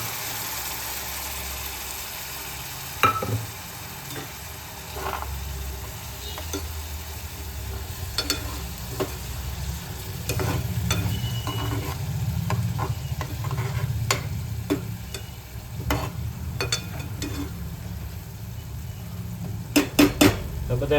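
Tomato paste and spices frying in a pan for sev shaak, a steady low sizzle with scattered metallic clinks and scrapes from stirring, close and continuous without talk.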